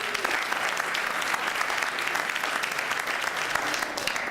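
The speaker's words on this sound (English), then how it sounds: "So a big round of applause." An audience at a college elevator pitch competition applauds, giving a dense, steady wash of clapping that fills the space at even loudness from start to finish.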